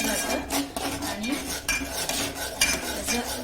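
Chicken masala being sautéed in a pan with chicken soup added, with steady scraping and clinking of a utensil against the pan over a continuous background hiss, close and fairly loud with no talk.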